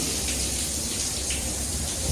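Steady, even rush of water from a rain shower in the Rainforest Spa aboard the Disney Magic cruise ship, a continuous broadband hiss with no pauses and no voices.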